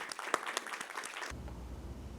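An audience applauds Carlos Marcelo at a book fair: a dense, lively burst of clapping with a few sharp claps standing out, which stops abruptly partway through and gives way to a low hum.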